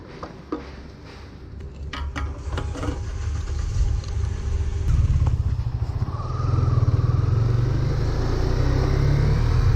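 A KTM Duke 250 motorcycle ridden on the road, its engine a steady loud rumble that builds and holds, with wind noise and a few clicks and knocks early on.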